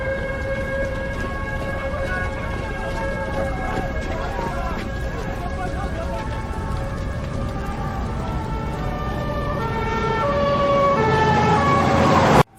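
Fire engine sirens wailing as firefighters arrive at the Chernobyl nuclear plant, a loud continuous siren tone over engine rumble that swells toward the end.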